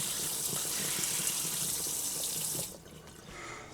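Water pours steadily from a tap in a camper van fed by a mains water inlet, a close, loud rushing stream that cuts off abruptly near the end, leaving a quieter trickle.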